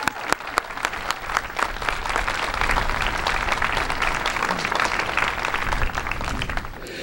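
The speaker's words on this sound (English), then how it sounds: "applause is what we have at the moment to give you." Audience applause at a legislative event honoring child advocacy volunteers: steady, full clapping from a sizable crowd, a few sharp individual claps standing out at the start, continuing evenly throughout.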